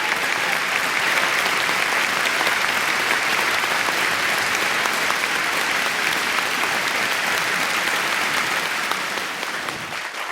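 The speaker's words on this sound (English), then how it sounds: "Please do one more thank you applause." Sustained applause from an audience at a formal environmental awards gathering honoring a dignitary, dense steady clapping throughout that eases slightly in the final second.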